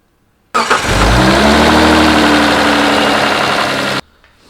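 Twin turbo project car engine fresh from an oil change starts up and runs loud and close for about three and a half seconds, a steady mid-pitched idle with a brief rev at the start, then cuts off abruptly.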